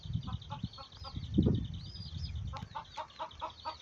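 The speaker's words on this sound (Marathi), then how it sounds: "हे पाय आमचे कोंबड्या आहेत इथे." Chickens cluck in a farmyard, a flock resting at midday, with repeated soft clucks and short calls at close range, several birds overlapping against quiet rural background.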